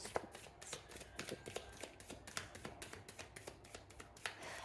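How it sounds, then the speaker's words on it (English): A deck of cards is shuffled by hand in close, quiet bursts of rapid riffling and soft slaps, repeated several times in quick succession. "3 more shuffles"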